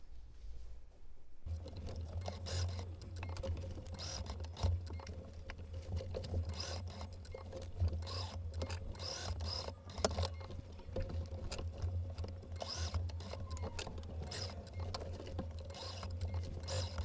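A sewing machine hums steadily as it stitches a placemat into a machine cover, a close, even mechanical whir with faint rapid needle patter and no one speaking.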